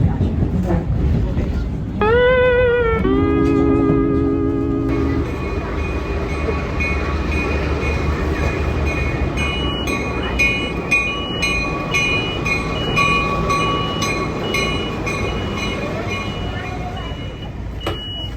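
A freight train led by MP15 locomotives on the Long Island Rail Road rumbles past steadily for a long stretch, with a horn sounding early and rhythmic clanks of wheels over rail joints throughout.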